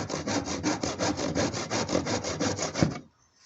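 A hand saw trims the protruding ends of 12 mm wooden plugs set in 11.5 mm holes, giving a rapid, regular back-and-forth rasp of about sixteen close strokes, then stopping abruptly.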